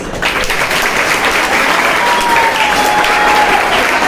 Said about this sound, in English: Even a bigger round of applause goes for the mentors, the teachers.